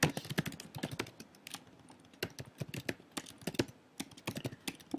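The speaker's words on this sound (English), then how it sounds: "wow, I can't type today." Rapid, uneven clatter of keys on a computer keyboard, close and fairly quiet, in quick bursts with short pauses between.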